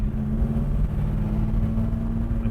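A big-block V8 car with a 4-speed and loud aftermarket exhaust rumbles steadily at low revs, a deep, even burble with no voices over it.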